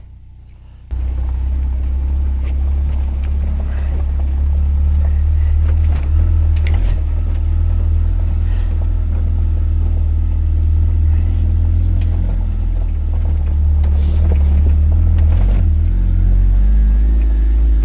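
A loud, steady Ariel Nomad engine rumble drones continuously, straining in thin high-altitude air on the old Punta Olimpica road in the Cordillera, with occasional faint clicks and knocks riding over the deep low hum.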